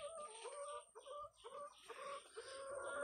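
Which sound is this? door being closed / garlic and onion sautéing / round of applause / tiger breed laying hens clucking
tiger breed laying hens clucking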